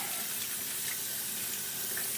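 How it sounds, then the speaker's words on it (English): Steady running water from a tap splashes continuously into a sink as hands are washed, close and constant with no talking. "And then I'm gonna wash my hands."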